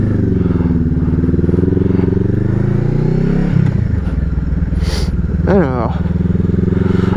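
A motorcycle ridden gently with light throttle and unhurried gear changes, its engine drone rising slowly then dropping, with someone talking over it and some clatter and wind noise close to the microphone.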